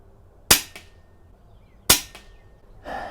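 Two sharp, crisp shots from a .177 air pistol, spaced over a second apart, each a loud snap with a quick metallic ring-off, followed by faint handling noise.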